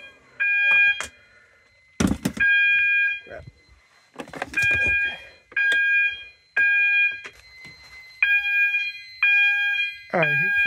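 A System Sensor MASS fire alarm sounds during a system test, blaring repeated loud electronic tone bursts in a steady on-off pattern, with brief bursts of other noise between some of the cycles.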